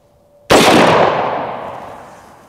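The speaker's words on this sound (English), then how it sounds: "This is a .458 SOCOM, one of the biggest, scariest rounds out there." A single loud, sharp gunshot from a .458 SOCOM rifle strikes an AR500 steel body armor plate outdoors, followed by a long, fading ring and echo that lasts about two seconds.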